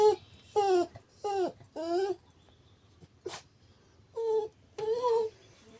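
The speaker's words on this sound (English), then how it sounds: "Our fierce tracking dog." A tracking dog whimpers and whines in a series of close, high, wavering cries, several in quick succession, then a pause and two more longer whines.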